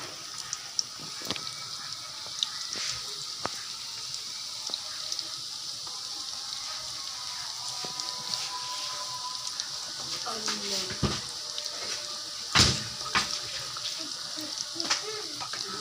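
Chicken pieces hit a hot pan one by one for chicken dabu, giving a soft steady sizzle broken by a few sharp crackles and clinks, quiet and close.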